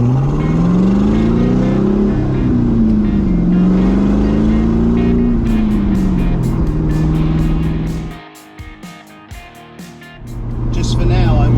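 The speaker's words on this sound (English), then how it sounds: "soak up this raw 7 litres of V8 muscle" A 7-litre V8 in a Corvette Stingray C2 rumbles loud and close while driving, its deep exhaust note rising and falling through revs, then dropping briefly before swelling again; a voice talks over parts of it.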